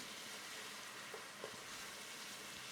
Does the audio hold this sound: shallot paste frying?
yes